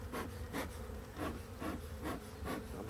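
Honeybees swarm around an opened Langstroth hive during an inspection, with smoke in use. A steady, close buzzing hum pulses in repeated surges with faint rubbing and scraping of frames.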